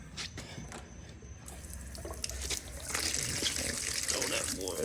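A rubber glove is rinsed under a running tap, a steady splashing gush of water that swells louder toward the end, close up, with faint speech in the background.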